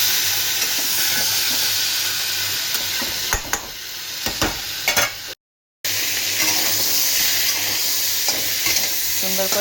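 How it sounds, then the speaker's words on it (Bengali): Flat beans and other vegetables frying in a pan, a continuous sizzle broken by several stirring scrapes and clatters, loud and close, with a brief gap of silence midway. "এখানে ভাজা হচ্ছে লাল করে শিম ভাজা হয়ে এসছে"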